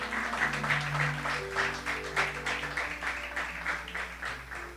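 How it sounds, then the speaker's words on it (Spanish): A church congregation clapping together during a bishop's sermon, a fairly even, rhythmic patter of many hands at moderate loudness that carries on steadily without pause, with no speech over it. "Dale esas palmas"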